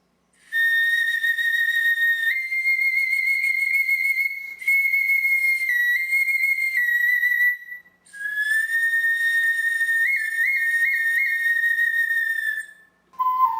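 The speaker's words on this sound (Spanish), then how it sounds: "Silbatos de cerámica." Shrill, piercing whistles from Andean ceramic whistles hold long sustained tones that shift pitch in steps and warble slightly, followed by a brief lower note.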